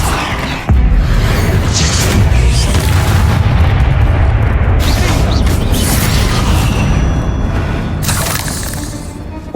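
A Bombarda spell explodes in the video game Hogwarts Legacy with a sudden loud blast that swells into a sustained, heavy, rumbling roar lasting several seconds, with no voices.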